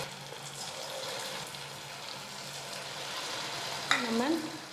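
Bonda batter balls frying in hot oil give a steady, soft sizzle throughout, with a brief burst of brighter crackle near the end.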